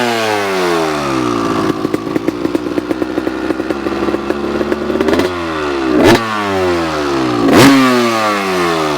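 A 250cc two-stroke race motorcycle engine revs hard and close, its raspy note rising and falling through repeated blips. A burst of rapid crackle is heard, then two sharp rising revs near the end.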